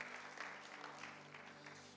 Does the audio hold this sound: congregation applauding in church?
yes